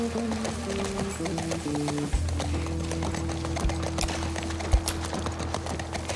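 Horse hooves clip-clop steadily while riding in the video game The Last of Us Part I, a brisk rhythm of dull footfalls with a few heavier thumps over a sustained musical score.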